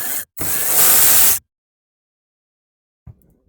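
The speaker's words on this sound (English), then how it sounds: "Now we remove that 10mm bolts." A ratchet cranks out a 10mm bolt from a Toyota Camry ACV40 stereo mount during a radio replacement, giving a short loud burst of rapid clicking and then silence, with a faint knock at the end.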